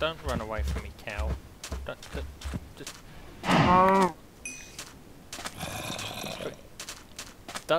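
Cows in the Minecraft video game let out a long, loud moo near the middle, among shorter lowing calls and clicks, with a person talking over much of it.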